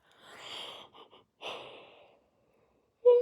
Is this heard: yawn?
yes